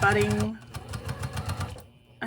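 A sewing machine stitches around the edge of a fabric face mask, its motor whirring in short bursts with a rapid rhythmic needle chatter, close and fairly loud, stopping near the end.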